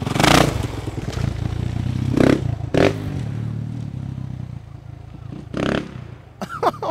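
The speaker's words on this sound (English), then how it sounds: "Someone's coming with a motorcycle, so maybe just get out of the way." A dirt bike engine buzzes and revs in an echoing space, with loud clattering bangs and scrapes spaced through the clip and brief voices near the end.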